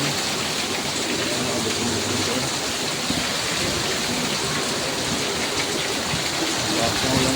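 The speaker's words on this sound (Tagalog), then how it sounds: "Lakas ng ulan." Heavy rain pours steadily throughout, a dense, constant hiss of large drops drumming on surfaces in Metro Manila, close and loud with no letup.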